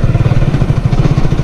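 Close by, a motorcycle running its factory-original silencer ticks over at idle, with an even, rapid low exhaust thump repeating throughout and nothing else audible.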